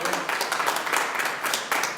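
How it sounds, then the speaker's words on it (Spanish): A church congregation applauding, dense steady clapping from many hands that fills the space without pause. "Denle un aplauso por favor al Señor."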